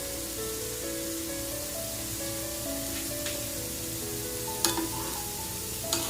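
Ghee sizzles on a masala dosa cooking in a pan, a steady hiss running throughout with a couple of brief clinks and scrapes near the end, and music playing underneath.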